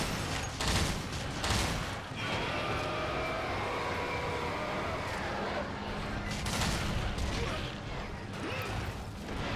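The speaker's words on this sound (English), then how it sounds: "I really am underestimating just how long the recoil on this bowgun can be" Bowgun fire in Monster Hunter 3 Ultimate during a hunt against an Agnaktor, with repeated loud booming shots and mechanical recoil clatter over a dense, continuous game soundscape, the blasts clustering near the start and recurring throughout.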